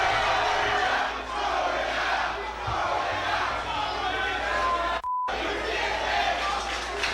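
A large wrestling arena crowd roaring and jeering together in a sustained dense wall of voices, loud throughout, with a short beeped gap near the end.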